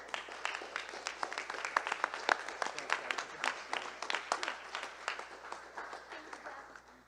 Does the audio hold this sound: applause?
yes